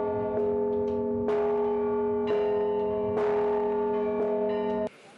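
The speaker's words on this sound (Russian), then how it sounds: "колокола отливали на московском заводе ЗИЛ" Cathedral church bells cast at the Moscow ZIL factory ring out in a steady series of loud, resonant strikes about once a second, each tone sustaining and overlapping the next before the ringing cuts off abruptly.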